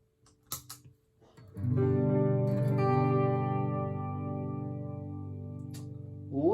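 An electric guitar chord on a Les Paul-style IYV ILS-300 through a Hiwatt T20 amp head rings out, sustained and shimmering with delay and chorus effects, after a few quiet taps.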